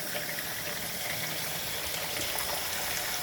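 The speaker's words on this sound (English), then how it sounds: "And then I put warm water." Warm water pours steadily from close by over a batch of frozen tomatoes with their stem ends cut off, making a continuous hissing gush for about three seconds with no talk.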